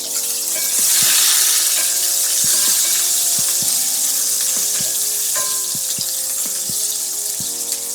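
Chopped onion sizzles in a little oil in a pan, a steady loud hiss that runs throughout, broken by faint clicks and taps.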